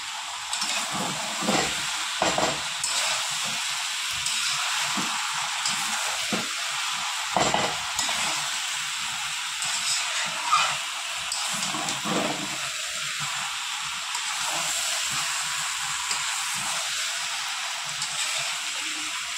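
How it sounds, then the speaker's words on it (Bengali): Spice paste with tomato sauce and sugar for a young jackfruit and prawn dish sizzles in a pan, a constant loud steamy hiss under occasional knocks and scrapes of the stirring spoon. "ভালো করে মশলা আমার কষানো হয়ে গেছে"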